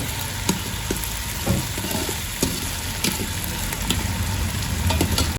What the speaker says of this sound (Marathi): बटाटा आणि कांदा थोडा वेळ तेलात तसंच शिजवत जाऊ